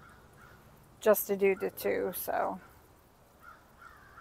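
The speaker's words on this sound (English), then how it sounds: "The crows are going crazy." Crows cawing outdoors make faint, distant calls at the start and again near the end, while a person speaks briefly in between.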